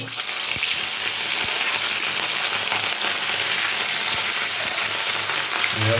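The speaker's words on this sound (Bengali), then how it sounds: "তেলটা অলরেডি গরম হয়ে গেছে তো আমি এখন মাছগুলো দিয়ে ভেজে নেব" Fish pieces fry in hot oil, giving a loud, dense, continuous sizzle and crackle close by for the whole stretch, with a few faint thumps from the pan beneath it and no talking.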